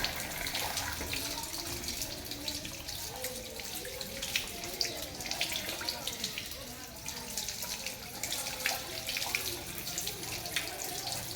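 Water running steadily from a tap during wudu face washing, a continuous splashing hiss with faint background voices.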